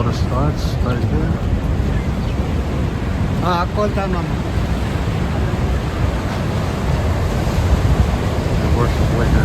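Broad, steady rushing water at the head of Niagara Falls in Niagara State Park, a continuous roar filling the clip with wind buffeting the microphone and a person speaking briefly over it.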